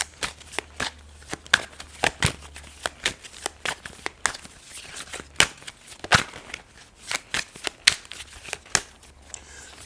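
Tarot cards being shuffled by hand, a run of crisp riffling snaps and soft shuffles repeating in an uneven rhythm, close and fairly quiet, with no talking.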